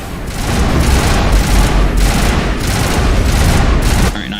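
Turret gunfire in Mass Effect Legendary Edition rattles in a dense, loud, continuous barrage of rapid shots with rhythmic surges, close and dominant throughout.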